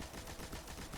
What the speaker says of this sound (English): Use my machine gun, but apparently miss every shot.